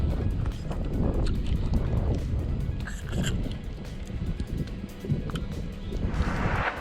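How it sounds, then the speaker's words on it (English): A small boat is rowed through lily pads in a park lake in Seminole, Florida, with rough rustling, swishing and knocking against wind noise, close and continuous with a few brief clicks. "We are rowing through the lily pads."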